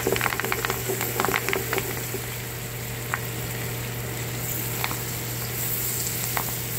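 Fresh spinach goes into a hot buttered pan, giving a steady sizzle with a few scraping and stirring taps at the start, then a soft continuous frying hiss.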